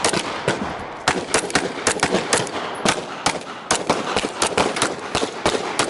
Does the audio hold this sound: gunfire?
yes